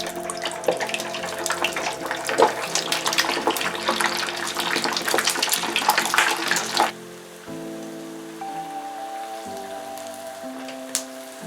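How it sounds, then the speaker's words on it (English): Quails deep-fry in very hot oil with a dense, loud crackling roar for about seven seconds, then the bubbling drops away to quieter tonal sounds, with no voices. "Put them in a very hot oil for 6 to 7 minutes."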